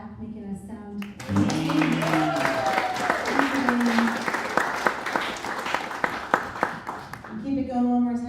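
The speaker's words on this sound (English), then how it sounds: "Would you guys keep that round of applause going for Mr." Applause and cheering at a songwriter round held at a winery, rising suddenly after a voice speaks and continuing as a lively crowd of claps, with talking over it near the start and end.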